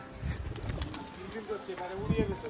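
A pigeon coos softly in low throaty notes near the end, with a person talking over it and some background rustling.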